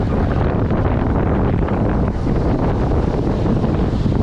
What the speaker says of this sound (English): this wind today is awfully bad